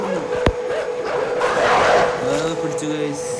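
Dogs in the video game Inside bark and yip close by, with a sharp bark early and whining, pitched calls later, while a person talks over the game sounds.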